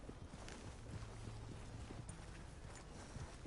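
A horse's hooves in Red Dead Redemption 2 clop at a steady walking pace, quiet and set back under a constant low wash of ambient game noise.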